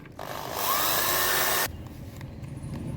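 A power drill bores into a wooden fascia board during roof renovation, one sustained high whine of about a second and a half that starts and stops abruptly, loud and close, with quiet background noise before and after.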